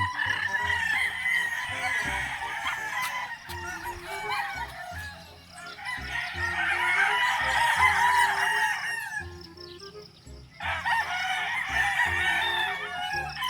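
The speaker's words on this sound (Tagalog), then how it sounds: "Ang daming mga manok ni mga gaw." Many chickens and roosters crow and cluck together at length, a dense, loud chorus of overlapping calls.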